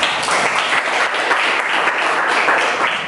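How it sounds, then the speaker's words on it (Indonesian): Junior high school students in an Indonesian classroom clap together, a loud, continuous round of applause holding steady for about three seconds. "Oke, tepuk tangan bersama."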